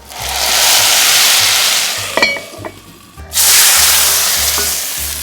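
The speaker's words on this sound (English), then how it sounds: "Once your tadka is done, you tip the tadka into your dal and put the lid back on" Hot oil tempered with spices and chili sizzles loudly as the tadka is tipped into lentil dal, a continuous hiss that breaks briefly with a few clinks before surging again.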